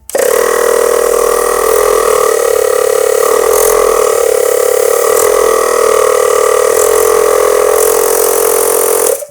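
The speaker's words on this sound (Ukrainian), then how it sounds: "вмикаємо, послухаємо, як буде працювати сам компресор" A Voin VL 550 12-volt car air compressor runs steadily, giving a loud continuous motor drone with a buzzing tonal hum, starting abruptly and stopping at the end, with no talk over it.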